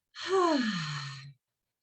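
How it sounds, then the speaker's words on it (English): A deliberate breathing exercise: one long breath drawn sharply in through the mouth like a gasp, then released in a steady, audible sigh, close and alone. "So you're going to breathe in through the mouth like that, like you're gasping for air."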